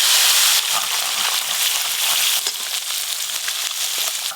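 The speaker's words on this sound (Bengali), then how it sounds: "কম কম ভাজতে হবে, বেশি দিলেই ভেঙে যাবে।" Pieces of stingray fish sizzle in hot mustard oil, a loud, steady, crackling fry that runs without a break from start to finish.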